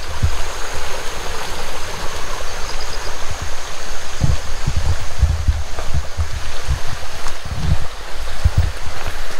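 Rushing water at Balnunto Falls near Soliman Cave, a loud, continuous roar of falling water close by, with low wind-like rumble and buffeting throughout and no voices.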